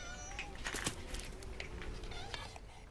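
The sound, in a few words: cat meowing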